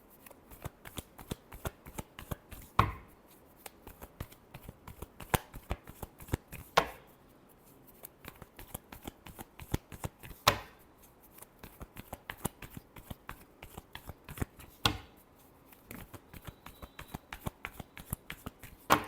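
Tarot cards are shuffled continuously up close, a dense run of rapid crisp riffling clicks with occasional louder slaps and taps as the deck is squared, with no talking.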